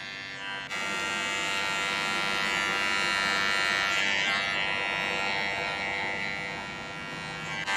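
An electric hair trimmer buzzes steadily and close up while cutting short hair, a loud continuous whir that shifts slightly in pitch as it moves over the head, with no talk.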